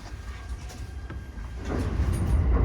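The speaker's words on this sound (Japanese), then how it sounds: "ワンマン列車が到着。" A one-man local train pulls into a small rural station near Yahiko, a low rumble of wheels and engine swelling steadily louder as it approaches, with faint clatter and no voices.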